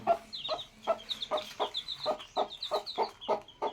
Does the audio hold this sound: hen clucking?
yes